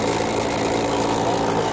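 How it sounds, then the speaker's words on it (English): A loud, continuous mechanical whir and rattle of an M18 hammer drill boring into a cinder block wall, running steadily up close with no pauses. "drilling with the M18 hammer"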